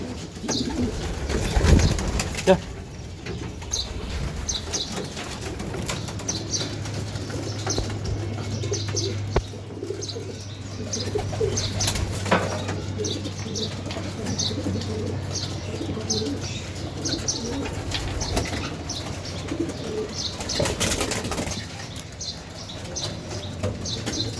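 Racing pigeons at a loft give soft repeated cooing with bursts of wing flapping, a low steady coo running beneath scattered fluttering and rustling close by.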